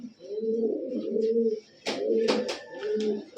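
A pair of big-sized Giribaz pigeons, male and female, coo in deep, rolling, repeated phrases close by, pausing briefly midway, with a few sharp fluttery clicks and scrapes over the steady murmur.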